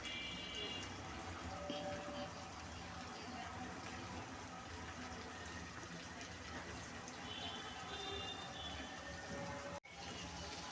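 Water runs steadily for several seconds while gravy liquid goes into a cauliflower and potato curry with egg, a continuous close gushing flow that ends abruptly near the close.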